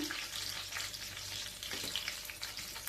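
Tomato and onion frying in a pan for egg curry, a soft, steady crackling sizzle with light stirring sounds, fairly quiet and with no voices.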